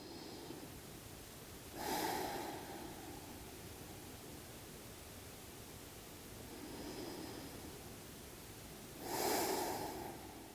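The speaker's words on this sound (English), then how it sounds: "We'll take a few breaths here." Deep breathing while holding yoga pigeon pose: two slow, airy inhale-exhale swells, one early and one near the end, with a fainter breath between, heard close over a steady background hiss and no talking.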